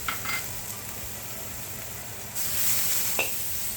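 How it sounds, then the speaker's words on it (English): Long strips of ginger hit a wok of smoking hot oil, a soft steady sizzle that swells louder partway through, with a brief stir clink near the end and no talk. "Just add about a half teaspoon of oil, let it smoke, and we'll throw in those long strips of ginger."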